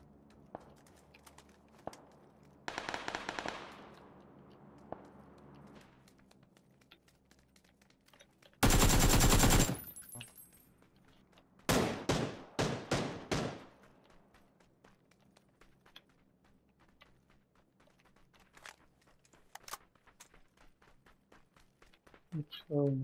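Rapid bursts of automatic gunfire from a PlayStation game of PUBG on the Sanhok map, with several loud volleys of varying length and quieter footsteps between them, and a person talking over the action.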